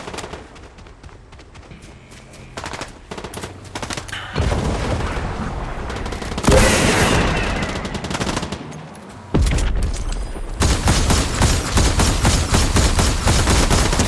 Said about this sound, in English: Man, who is shooting like crazy?